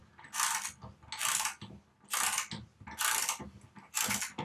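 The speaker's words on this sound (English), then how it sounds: "you can tell from the noise that the ratchet's actually doing some work" A ratchet turning a thread chaser on a bolt, clicking in five regular bursts, each a rough metallic rasp with short pauses between strokes, close and loud, no voices.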